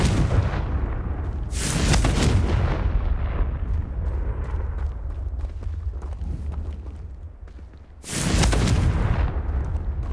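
Confringo fire spell explosions in the video game Hogwarts Legacy, two loud booming blasts several seconds apart with a rumbling low roar sustained in between.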